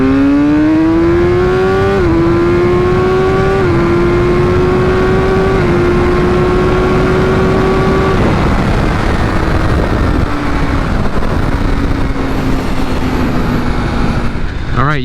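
2016 BMW S1000R motorcycle accelerating hard from 60 to 130, loud close engine wail climbing in pitch through several gear shifts, with brief dips at each change and wind roar building underneath.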